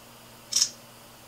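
A Droid Bionic smartphone camera fires one short, crisp shutter click that stands out against a quiet background.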